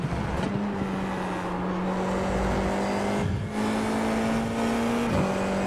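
An F4 race car at Portimao in iRacing accelerates hard out of a corner, with a loud, close engine whine that climbs steadily in pitch, a brief dip for an upshift, and a second long climb.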